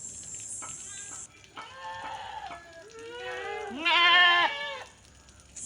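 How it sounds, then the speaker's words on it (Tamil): Several goats bleat in turn, close and loud, with wavering cries that grow louder toward the end over a quiet outdoor background, and no talk. "எல்லாம் மேய்ச்சலுக்கு போக கத்த ஆரம்பிச்சிட்டாங்க"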